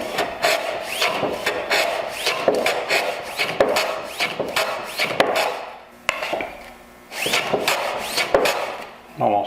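Hand plane trimming thin drawer mitres, just under a quarter inch, on a shooting board: a quick series of close, rasping wooden strokes with brief pauses between passes.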